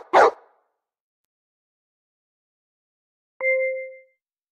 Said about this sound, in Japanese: 牧羊犬。